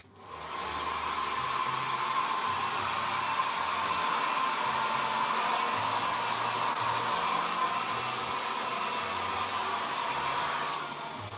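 A hair dryer blows continuously at a steady, loud whooshing roar for about ten seconds, drying a revived painted piece, close up with no talking.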